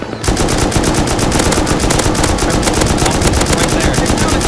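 An M249 machine gun firing in the video game Rust, a loud, fast, unbroken burst of rounds after a brief lead-in.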